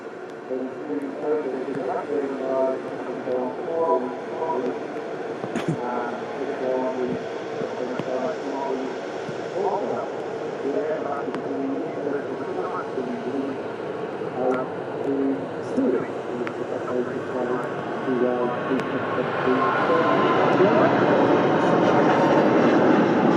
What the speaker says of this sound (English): Next out, though, their A350 departure.